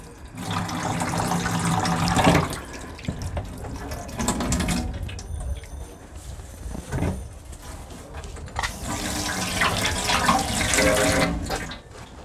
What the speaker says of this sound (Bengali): পানিগুলো ঝরুক